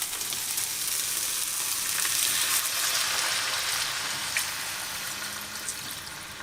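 Loud, continuous sizzling and bubbling of hot stock poured into a hot pan for cottage pie, fading slightly toward the end.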